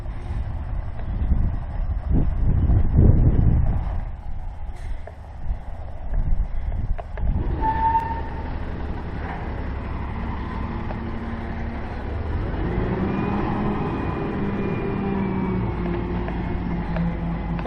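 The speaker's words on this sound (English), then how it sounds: "let's hope the truck gets here pretty soon" A truck arrives with a load of compost for a spring garden, its engine rumbling over wind noise, then settling into a steady idle with some faint beeping, heard at a distance and with no talk.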